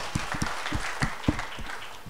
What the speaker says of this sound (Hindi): एक बार जोरदार ताली बजाइए अपने लिए।